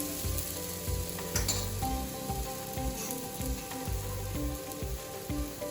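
Chilla batter sizzles and fries steadily in oil in a pan, a continuous close crackle with faint clinks from a utensil.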